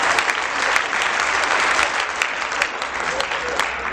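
An audience at a Haryanvi poetry recital breaks into steady, loud applause that stays dense for the whole stretch, with crisp individual claps standing out and no clear talk over it.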